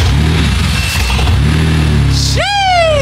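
Straight-piped BMW E91 M3 wagon V8 with no exhaust, resonators, muffler or secondary cats starting up for the first time: a steady low rumble, then a loud bark as revs sweep up sharply near the end.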